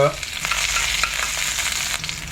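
Cumin seeds crackle and sizzle in hot ghee in a pan at the start of sabudana khichdi, a steady close frying hiss with small pops and a faint stir near the end.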